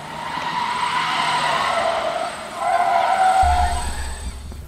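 A car drifting on a track spins out, its tires skidding in two long, loud squeals, the second rising after a brief dip, over a steady engine roar.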